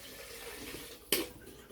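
A brief splash of water being poured into a blender, faint and close, over a quiet background.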